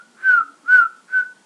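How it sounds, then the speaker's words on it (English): A referee at a Premier League football match between Tottenham and Manchester United blows three short, clear whistle blasts in an even rhythm, loud and alone. "Blowing his whistle"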